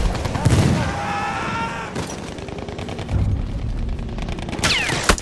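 In Battlefield 1, an enemy machine gun rattles off dense rapid bursts amid other battlefield gunfire and booms, close and fairly loud throughout.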